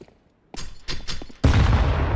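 Gunfire in Counter-Strike 2: silence, then a few sharp shots around the middle, followed by a loud sustained burst of firing to the end, with no talk.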